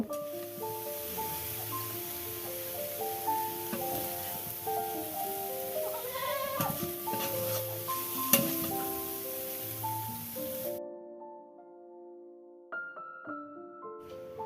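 Leafy greens fry in oil with a little salt in a home kitchen, a soft continuous sizzle running under music and stirring noises, then stopping near the end.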